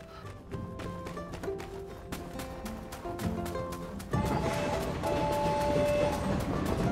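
A train in the video game My Time at Sandrock rumbles past in a steady, loud continuous roar with rhythmic clacking, growing denser and louder partway through, with no talking.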